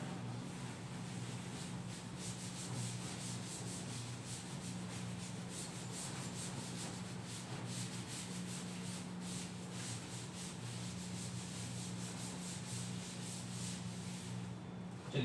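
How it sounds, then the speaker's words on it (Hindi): Steady rubbing of an eraser or duster across a classroom board, a continuous soft scratchy swishing with a faint background hum, quiet and unbroken throughout. "चलिए इसको रब कर देता हूं मैं अब"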